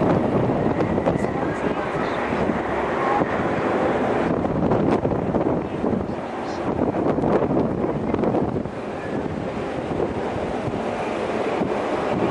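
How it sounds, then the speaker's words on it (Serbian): Wind buffets the microphone on a blustery day near the Barcelona beaches, a continuous loud rumbling gust with broadband roar, and a voice is heard faintly beneath it. "Znamo da je danas dosta vetrovito."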